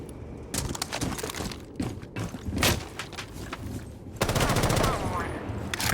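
Video game gunfire rattles out in rapid bursts as half a magazine is emptied into an Alibi clone, sharp repeated shots broken by short pauses, then a dense continuous spray.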